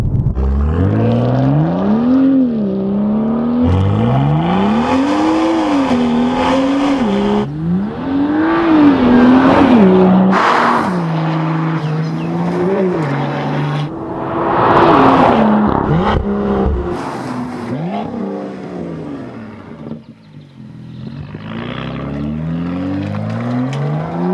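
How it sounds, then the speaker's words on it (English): A 2018 BMW M2 with an aftermarket exhaust system accelerating hard under load, loud rising engine revs climbing through repeated gear changes with brief dips between, close and dominant throughout with no talk. "how does that exhaust sound under load?"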